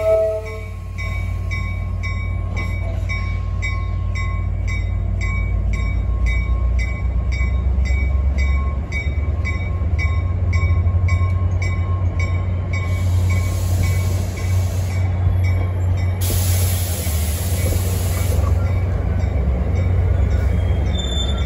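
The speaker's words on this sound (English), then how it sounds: "Train 1120 is getting ready to depart at 4:05 p.m. for Hoboken with one hell of a locomotive shoving it." An EMD diesel locomotive shoves an NJ Transit commuter train out on its departure toward Hoboken, a loud steady engine rumble with rolling rail noise and brief bursts of squeal or air near the end.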